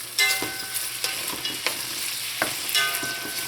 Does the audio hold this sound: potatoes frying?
yes